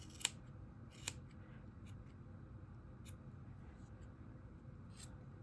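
Scissors snip through the yarn mane of a knitted donkey, two sharp close cuts near the start and a few fainter clicks later over a low steady background hum.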